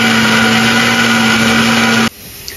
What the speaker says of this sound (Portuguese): Então vamos bater no liquidificador na potência alta